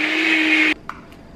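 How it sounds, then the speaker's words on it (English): A kitchen blender whirs steadily at close range as a drink blends, a loud continuous motor drone that cuts off abruptly, followed by a couple of faint clicks and handling sounds. "pour it into the blender, blend it, and pour it back in here"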